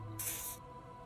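A single short hiss of an aerosol spray from the video game Disco Elysium, a brief bright burst lasting under half a second over a quiet background hum.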